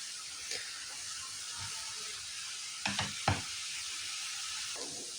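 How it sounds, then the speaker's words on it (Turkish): Chopped red beetroot sautéing in a pan for a salad, a quiet steady sizzle and hiss with a few soft stirring scrapes and clinks partway through. "Yine kavuruyorum."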